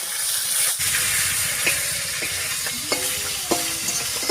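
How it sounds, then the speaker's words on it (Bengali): Live magur catfish hit hot oil in a pan, giving a steady, dense sizzle and hiss with a few sharp crackles and pops scattered through it, close and loud with no talking. "জ্যান্ত মাছ, তাই দেওয়ার সঙ্গে সঙ্গে দেখুন কেমন করে ফুটছে"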